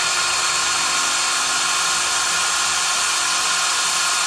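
Steady high-pitched whine of a power drill running continuously, loud and close, with no voices over it.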